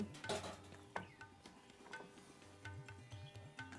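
A mixture seasoned with ground pepper is stirred in a pot, giving soft scraping and clinking of a utensil against cookware in uneven strokes, close and quiet with no talking.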